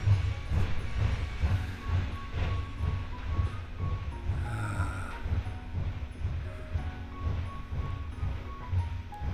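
A train in a VR game rumbles steadily with a low, rhythmic chugging and faint hissing, continuous throughout with no talking.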